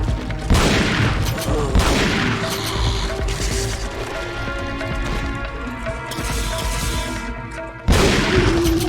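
Resident Evil 4 gameplay with a shotgun firing at an enemy: sharp, loud blasts at the start and near the end, with clanging action and game sounds between them.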